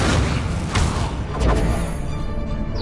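A fire spell cast in Hogwarts Legacy, a loud whooshing burst with booming, crackling impacts that stays dense and noisy throughout, with several sharp transient hits over the game's background sound.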